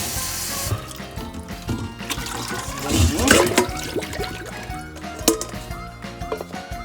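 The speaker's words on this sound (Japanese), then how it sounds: "5分経ちましたら、お水を捨ててお水で、洗い流します。" Water is poured off and burdock root rinsed in a kitchen, with splashing and trickling, a louder gush midway, and light knocks of the root and bowl, close and without talk.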